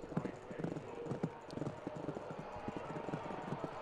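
Rapid hoofbeats of galloping horses in the multiplayer racing game Horse Academy drum steadily at moderate loudness, with faint game background noise behind them.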